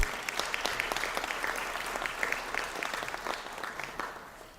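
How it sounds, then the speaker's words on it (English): Audience at an ATU university conferring ceremony applauds a graduate: dense, lively clapping from a crowd, steady for several seconds then tapering slightly at the end. "A round of applause for Luke."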